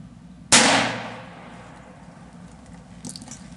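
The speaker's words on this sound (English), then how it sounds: "first shot with our Norma 40 grain" A single sharp gunshot from a .22 Magnum rifle firing Norma 40 grain ammunition outdoors, one loud crack followed by a quickly fading echo, then quiet with a faint click afterward.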